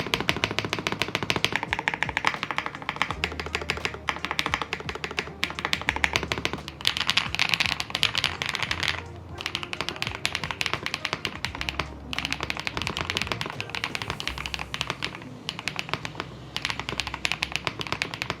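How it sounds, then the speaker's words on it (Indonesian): Rapid typing on a Fantech Maxfit6 65% mechanical keyboard, a steady clatter of crisp, deep-toned keystrokes close up, with brief pauses between bursts and no voices. "suka karakter suara keyboard yang tobrut gitu ya"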